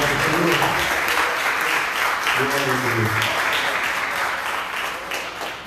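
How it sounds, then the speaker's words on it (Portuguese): A church congregation claps steadily and warmly for several seconds, with a voice speaking over the applause. "Você pode dar uma salva de palmas para o Senhor?"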